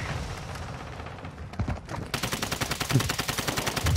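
Rapid automatic gunfire in a shooter video game, quieter scattered shots at first, then a loud sustained machine-gun burst with evenly spaced rattling reports for the final two seconds.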